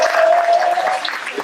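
Scattered clapping from an audience at a corporate plenary magic show voting for a second trick, moderately loud but thinner, with a faint tonal hum and a few voices mixed in.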